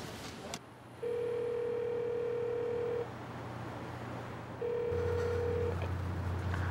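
A telephone rings in a home, two electronic tones sounding a few seconds apart over a low steady hum.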